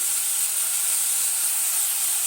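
Mutton hits a hot pan for a Mandya-style guddebaadu curry, producing a loud, continuous, even sizzling hiss with no break.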